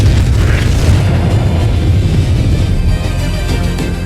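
A massive explosion in the sun sets off nuclear fusion: a loud, continuous deep rumbling roar that barely fades over several seconds, with no voices.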